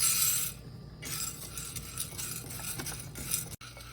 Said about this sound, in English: Keep mixing them continuously so they're all evenly roasted.